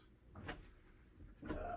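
Kitchen drawer in a 2007 Tiffin Phaeton 40QDH motorhome sliding open or shut, two soft close-range knocks about a second apart in a quiet room.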